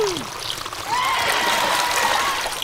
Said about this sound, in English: Now send the water down this slide to fill the second pool.